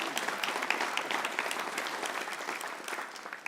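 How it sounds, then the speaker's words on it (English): Audience applause at a welcome and education center grand opening, a full, steady round of clapping that carries on and tapers slightly at the end. "So please, a round of applause for all those companies that help make this happen."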